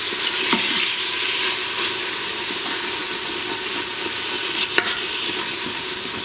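Browned stew meat sizzles loudly while searing in an Instant Pot, with a constant frying hiss and occasional scraping clicks of a utensil against the pot.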